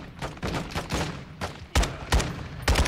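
Gunfire in Call of Duty: Modern Warfare: scattered single shots and short bursts, some distant and softer, then several loud, sharp close cracks spaced about half a second apart toward the end.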